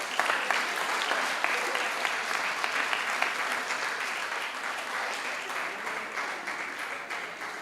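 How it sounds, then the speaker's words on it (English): Audience applause at a high school Founder's Day lecture, a steady dense clapping from a large crowd that fills the whole stretch at an even level, with no talk over it. "Give him another round of applause."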